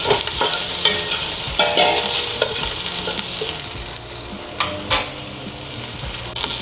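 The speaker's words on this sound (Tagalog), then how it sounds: "And saute lang natin siya ng few minutes." Onions sautéing with garlic in a pan for chicken adobo give a steady, close frying sizzle with repeated scrapes and clicks of stirring throughout.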